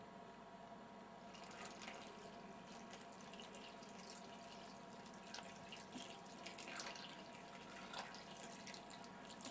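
Water is poured from a container into starch to make a thick non-Newtonian mixture, giving a faint, steady trickling stream that runs on without a break.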